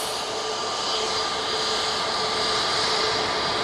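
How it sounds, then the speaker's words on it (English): A Jet2 airliner approaching to land at Manchester Airport gives a continuous broadband engine roar, fairly loud and steady and slowly building, with no talk over it. "Jet 2 coming on right in front of us"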